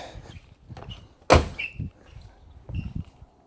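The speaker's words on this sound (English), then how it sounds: "You've noticed how beautifully these doors open and close." Doors on a mint Ford Foxbody Mustang open and shut nearby, with soft handle and latch clicks around one solid, loud slam midway through and a quieter thud of a close near the end.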